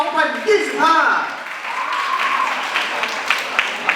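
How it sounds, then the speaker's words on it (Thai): Applause breaks out at a Miss Grand beauty pageant final show, moderate clapping from the audience following an amplified announcer's voice, with occasional louder claps. "ขอเสียงปรบมือกับทีม Miss Grand อำนาจเจนิญ2025"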